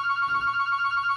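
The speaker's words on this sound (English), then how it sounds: "Oh, that's my phone." A telephone rings indoors with a fast, warbling electronic trill of rapid regular pulses, loud and close, with nothing else over it.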